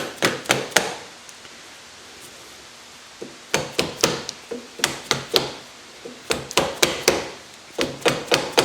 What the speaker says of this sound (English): we'll use a hammer, not a hammer, but like a mallet. And we'll go ahead and tap it in